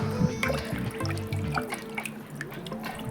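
Water sloshes and drips in a bowl as freshly harvested leaves are swished and rinsed in salty water, close and fairly quiet, with a faint background hum.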